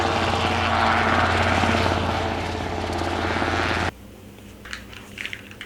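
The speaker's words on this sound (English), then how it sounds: "This is awesome private helicopter" A private helicopter runs loud and close with a steady rotor and engine roar, which cuts off abruptly, leaving faint background clicks and movement.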